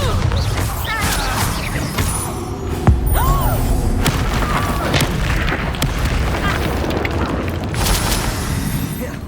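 A Bombarda spell blast in the Hogwarts Legacy video game, a loud booming burst over a dense, continuous wash of game effects and music with no clear pauses.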